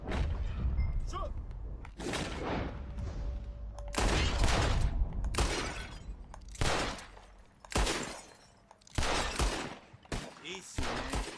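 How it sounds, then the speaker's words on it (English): Bottle-shooting contest in Red Dead Redemption 2: a series of loud gunshots, several in quick clusters and others spaced apart, mixed with breaking glass and thuds, close and sharp. "The one who shoots the most bottles wins."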